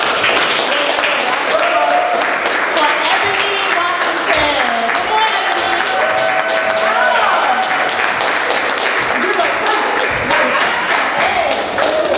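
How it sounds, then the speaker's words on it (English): An audience at an open mic event applauds, dense steady clapping from a crowd filling the room, with voices mixed in throughout. "I want y'all to start giving a round of applause."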